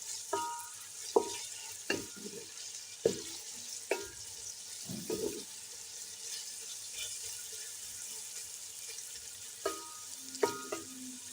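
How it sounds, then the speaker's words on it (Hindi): Onions frying in a pan until just transparent for a beef stew: a steady hiss of sizzling oil broken by a series of sharp spoon scrapes and stirs, with some water-like splashing and no talking. "प्याज को हमें ज़्यादा गोल्डन नहीं करना, सिर्फ ट्रांसपेरेंट करना है, यानी कि प्याज थोड़ी सी भुज जाए"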